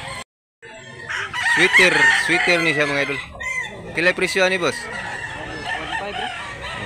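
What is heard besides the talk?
rooster crowing at a cockfighting farm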